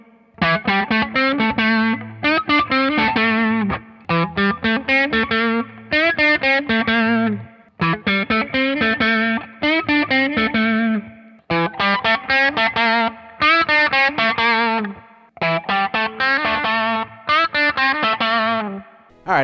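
Gibson and Epiphone electric guitars fitted with Burstbucker pickups playing distorted riffs in repeated phrases with brief gaps, loud and close with no voices.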